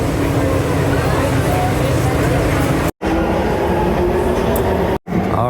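Rumble and roar of an LA Metro D Line subway train riding on opening day, heard from inside the car as a loud steady low drone with faint rail squeal, broken by two brief cuts.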